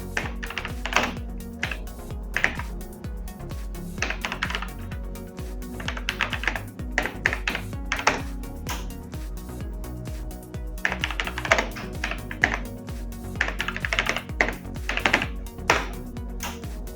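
Keys clatter on a retro PC keyboard in close, uneven bursts of typing separated by brief pauses, with no voices over them.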